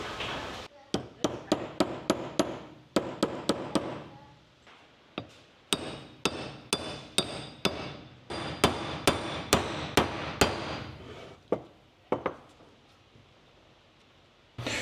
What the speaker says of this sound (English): I'm gonna have to try to just lightly tap this in